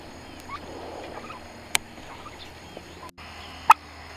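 Backyard turkeys give a couple of short sharp calls, one brief near the middle and a louder one near the end, over a quiet outdoor background with faint rustling.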